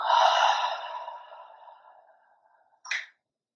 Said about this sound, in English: Take some really deep breaths here. Inhale. And exhale.